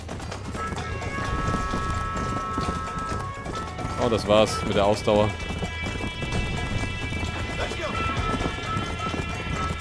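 A horse gallops in a race in Red Dead Redemption, its rhythmic hoofbeats running steadily under game music, while someone talks over it.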